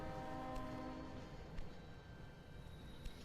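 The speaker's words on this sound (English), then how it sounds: "these trains are pretty quick" Trains running in the railway strategy game Railway Empire 2, a steady rumbling rail hum with a sustained horn tone early on and a few faint clicks, no talking.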